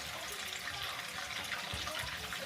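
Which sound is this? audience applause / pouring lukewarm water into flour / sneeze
pouring lukewarm water into flour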